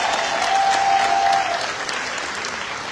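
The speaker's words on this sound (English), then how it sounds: "can we just give a round of applause to the graduates for tonight?" A crowd at an elementary school promotion ceremony applauds the graduates steadily, the clapping loud and full throughout, easing slightly toward the end.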